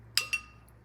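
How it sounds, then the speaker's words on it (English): A watercolor paintbrush rinsed in a water jar gives two quick glassy clinks close by, the brush tapping the rim, then quiet. "I'll rinse my brush a bit"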